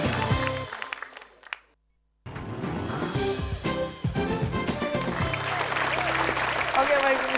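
A studio audience on a game show bursts into applause, broken by a brief silent gap and then clapping that swells and carries on under a presenter's voice.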